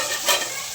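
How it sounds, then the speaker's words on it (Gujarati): A Gujarati dal tempering (vaghar) sizzles and crackles in a hot pan, a close, loud frying hiss with a brief surge of spitting partway through. "જો મિત્રો, દાળ વઘારી છે અને ભાત બની ગયા છે."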